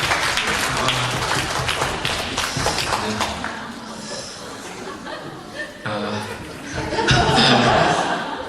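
A congregation at a Korean church in Milan claps for newcomers during a sermon. Steady, mid-level applause is mixed with chuckles and some talking. It swells again near the end.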